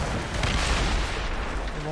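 Ship cannons fire in the Assassin's Creed Rogue game, a dense, continuous roar of booming gunfire and blasts at close range with no pauses.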